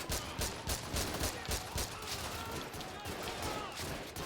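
Rapid gunfire in a shooter video game, a quick run of loud sharp shots in an uneven rhythm, some in bursts, with someone speaking French faintly beneath.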